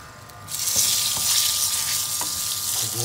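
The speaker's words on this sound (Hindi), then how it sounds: "अभी ये तड़का लग रहा है हमारा" Whole spices tempering in plenty of hot oil for Pakistani-style kadhi pakora, a steady loud sizzle and fry hiss swelling after the first half second and holding throughout, with a few faint stirring clinks.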